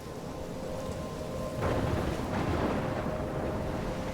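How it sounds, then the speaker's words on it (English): In the video game Life is Strange, a thunderstorm with steady rain hisses throughout, and a deep roll of thunder swells in partway through and rumbles on, with no voices. "I'm trapped in a storm?"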